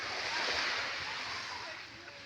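Ocean surf on a beach at Santa Cruz, Zambales, in the Philippines, makes a steady, broad hiss and wash that slowly fades a little, with wind in the background.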